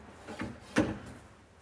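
A solid-base pull-out larder door is lifted and hung onto its fitted bracket, giving two soft wooden knocks, the second sharper and louder, at close range with no talk.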